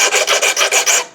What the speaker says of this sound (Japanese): こっち側とあと反対側をヤスリで